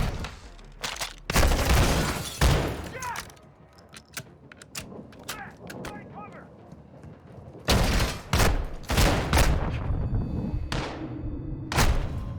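Dense bursts of gunfire in the Modern Warfare II campaign, loud rapid volleys and heavy thuds sounding in clusters, with a quieter stretch in the middle before the shooting resumes.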